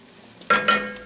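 Chicken and tomato fry in a pan over raised heat, a short close burst of sizzling and stirring with no voices.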